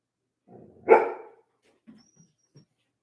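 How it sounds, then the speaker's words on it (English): A single sharp dog bark rings out close by in a garage, followed by a few faint, brief whimpering sounds in otherwise quiet surroundings. "I don't know what you're barking at."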